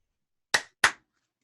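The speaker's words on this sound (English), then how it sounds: "Should we clap to line up the audio?" Two sharp hand claps about a third of a second apart ring out close and crisp in an otherwise silent room, each dying away quickly, made to sync podcast audio.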